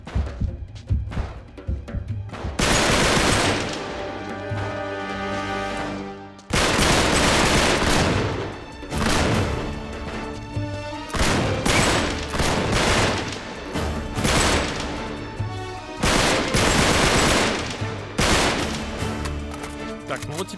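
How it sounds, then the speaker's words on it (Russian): Heavy bursts of rapid automatic gunfire in Uncharted 3: Drake's Deception, loud and close, in long sustained volleys separated by brief pauses. "Откуда стрельба?"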